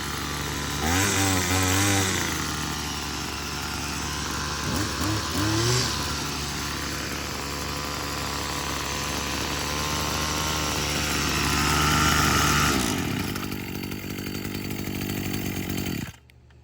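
A small Chinese-made lawn tool engine with no clutch runs its spinning head at a high, buzzing drone, revving up briefly at the start and holding steady before cutting off abruptly near the end.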